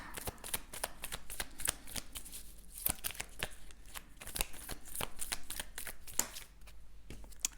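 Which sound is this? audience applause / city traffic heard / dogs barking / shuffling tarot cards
shuffling tarot cards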